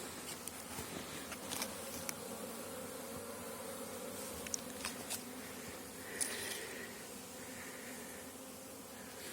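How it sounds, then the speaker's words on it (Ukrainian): Steady buzzing hum of many honeybees on a spring cleansing flight outdoors near a hazelnut orchard, continuous throughout, with occasional small clicks and faint birdsong in the background. "якраз попав на обліт бджіл"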